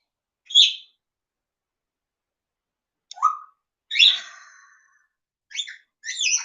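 A small bird gives about five short, separate chirps and tweets with silent gaps between them. The calls are close and clear, with no other sound or voices.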